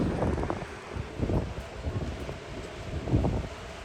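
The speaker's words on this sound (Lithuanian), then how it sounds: "Vėjas žiaurus, baisus vėjas." Strong, gusty wind buffets the microphone outdoors, swelling and easing in irregular low roaring bursts with no voices.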